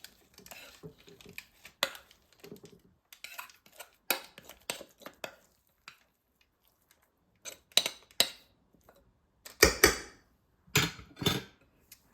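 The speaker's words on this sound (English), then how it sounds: "I'm going to scrape it to get all of the good pieces out" A spatula scrapes banana bread batter out of a bowl into a parchment-lined baking dish, giving a run of uneven scrapes, taps and clinks with short quiet gaps and a few louder knocks toward the end, close by and without talk.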